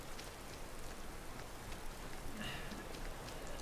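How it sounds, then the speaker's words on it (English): Steady rainfall in the game Skyrim Special Edition, a soft, continuous hiss of drops on surfaces that stays faint and even throughout with no breaks. "So, yeah, there's rain effects on my clothes."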